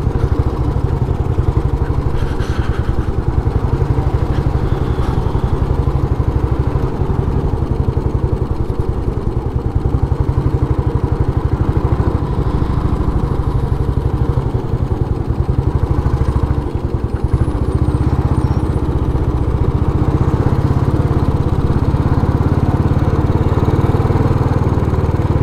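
A Royal Enfield motorcycle running on a test ride, its engine a continuous loud low rumble with steady thumping and road wind throughout, no talking.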